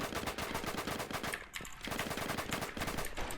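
Rapid automatic gunfire in the Roblox game Jailbird, with dense, loud bursts of shots and a brief pause partway through before firing resumes, and no talk.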